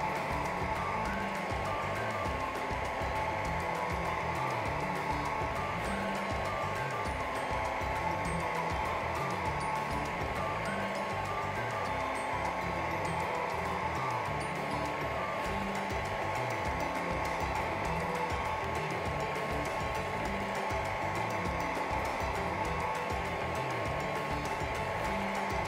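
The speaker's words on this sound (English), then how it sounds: "we used the heat gun to shrink the fabric and pull all the wrinkles out" A heat gun shrinks Oratex fabric during interior covering work, giving a steady, even blower whoosh and hum that runs without a break from start to end, with no one talking.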